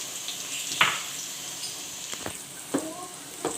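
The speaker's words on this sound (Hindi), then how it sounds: "देखिए हमारे जो मसाले हैं, आपको आवाज़ आ रही होगी, अच्छे तरीके से ये फ्राई हो चुके हैं।" Spices for black chana curry fry in a pan over low heat, giving a soft, steady sizzle with a few brief clinks and stirring scrapes on top. No voice is heard.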